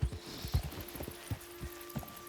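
Hooves of a spooked horse in Red Dead Redemption 2 clop in an uneven run of soft thuds over a low hum, close and fairly quiet.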